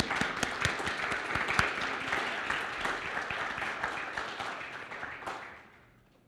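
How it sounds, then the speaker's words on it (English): An audience at a theological education event applauds its speakers with a full, even round of clapping that fades out toward the end. "So let's applaud for our speakers."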